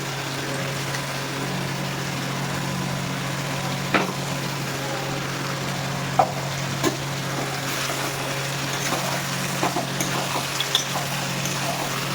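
Spice mix sizzles steadily as it fries in a pan for mutton curry, a continuous even hiss with occasional small pops and crackles, close and moderately loud, with no talking.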